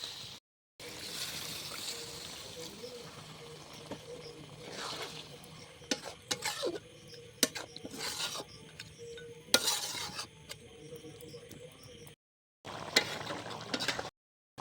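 Water is poured into a pot of mutton curry simmering with potatoes, with a soft trickle, steady stirring and scraping in the pan, and brief gaps of near silence between bursts.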